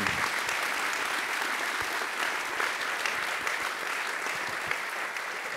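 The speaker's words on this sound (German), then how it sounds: "Es wäre schön, wenn Sie einen Applaus gerade mal rüberschicken könnten" Sustained applause from the audience at a Felix Burda Award ceremony, a dense, even wash of many hands clapping at a steady level for several seconds.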